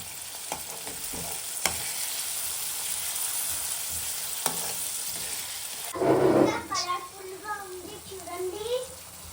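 Tomatoes are stirred in a sizzling pan for pasta, with soft scraping and frying noise close by, followed by someone talking over the cooking sounds.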